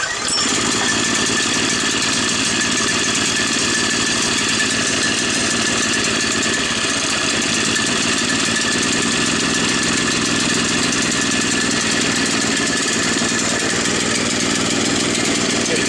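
A Harbor Freight Predator 6.5 horsepower small gas engine runs on a Sears Roto-Spader, a loud, continuous, close-up engine roar holding steady for the whole stretch.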